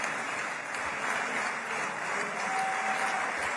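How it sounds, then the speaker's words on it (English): An audience applauds with dense, continuous clapping that holds steady throughout at moderate loudness. "Clapping for Miriam."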